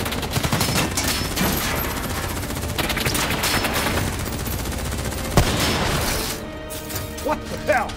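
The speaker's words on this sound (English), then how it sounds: "Who's shooting?" Sustained automatic gunfire and shooting in the Call of Duty: Black Ops 3 campaign on Xbox One, dense rapid bursts with a sharp crack near the end, loud and close, easing off in the final seconds.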